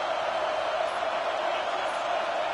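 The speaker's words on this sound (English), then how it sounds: "Listen to this crowd just shaking the girders of this place" Football stadium crowd roaring to rally their defense, a dense, sustained wall of cheering that stays loud and even throughout with no pauses.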